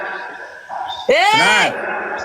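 A dog is shot in a sniper video game and lets out one sharp, rising then falling yelp, loud and close, over a low steady game background.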